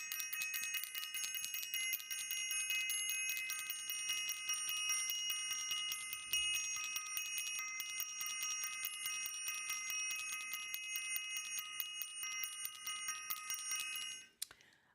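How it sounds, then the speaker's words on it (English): A metal bell rings steadily and quietly for about fourteen seconds, with bright sustained ringing tones that cut off abruptly near the end, alone with no talk. "So I also want to ring the bell."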